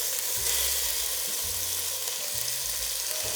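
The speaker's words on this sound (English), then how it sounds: "Into here I'm going to add in some streaky rasher." Streaky bacon rasher frying in olive oil for a beef and barley stew, a steady bright sizzle and crackle close up with a few low stirring knocks underneath.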